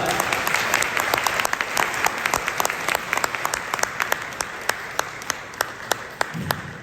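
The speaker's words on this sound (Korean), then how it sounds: "큰 박수 부탁드립니다" Audience applause at an academic lecture event honoring a new presenter, a steady dense patter of clapping with sharper individual claps standing out, sustained throughout at moderate distance with no talk.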